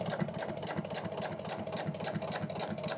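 A home sewing machine stitches steadily through fabric while sewing a corner, its motor whirring with a rapid, even mechanical rhythm, close and continuous throughout, with no talking.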